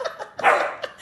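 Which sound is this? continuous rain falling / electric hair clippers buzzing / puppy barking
puppy barking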